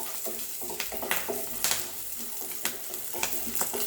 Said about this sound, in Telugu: అల్లం పేస్ట్ చేసుకుని పచ్చిమిర్చి అల్లం వేసుకుని బాగా కలుపుకుంటాం